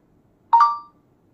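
A single short, bright notification chime from a Realme Narzo 60X 5G phone rings out once and fades quickly in an otherwise quiet room.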